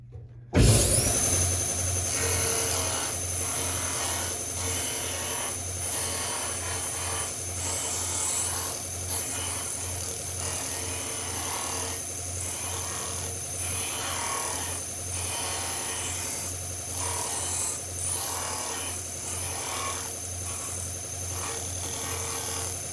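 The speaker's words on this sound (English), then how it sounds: "keep turning it, keep sanding until I cannot sand anymore" Steady rhythmic scraping as sandpaper rubs back and forth over wood, repeated strokes continuing evenly over a constant background hum.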